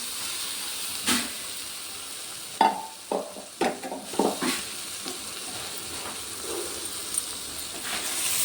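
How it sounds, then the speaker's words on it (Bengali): Lentils go into a pan of fried vegetables and cooked-down spices, a soft steady sizzle and hiss broken by several sharp clattering stirs and scrapes in the middle, then settling back to quiet frying. "এদিকে সবজিগুলো সব ভেজে নিয়েছি, মশলাটা কষানো হয়ে গেছে। এবার ডালগুলো দিয়ে দিলাম।"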